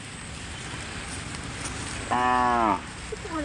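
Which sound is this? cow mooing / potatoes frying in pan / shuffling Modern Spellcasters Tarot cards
cow mooing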